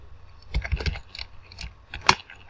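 Code being typed on a computer keyboard during a PHP programming lesson: an uneven run of close, crisp key clicks in short bursts with pauses, one sharper keystroke near the end.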